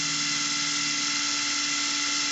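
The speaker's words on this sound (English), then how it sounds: "I started drilling holes into his backpack" A steady, high-pitched whining drill bores holes in a plastic action figure backpack, running continuously without pause, close and loud, with no voices.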